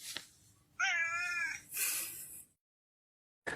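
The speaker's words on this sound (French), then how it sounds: "C'est un petit chat de trop mignon." A cute little cat gives a clear, close meow with a rising and falling pitch, followed by a second breathier cry, then a short silence before a brief final sound.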